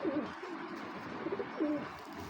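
Racing pigeons coo in two soft, rounded bursts close by, with a steady low background hum and no talking.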